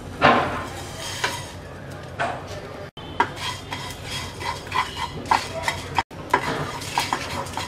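Cumin, fennel, coriander seeds and five whole dried chillies dry roast in a pan, heard as close, repeated scraping and rattling stirs with a light rustle of seeds and a couple of brief breaks.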